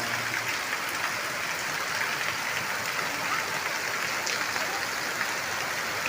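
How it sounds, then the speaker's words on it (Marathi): Heavy, sudden rain pours down steadily in a dense, continuous hiss with no pauses, loud and enveloping, water running off a house's eaves. "आणि ऊन आता अचानक पाऊस सुरू झाला"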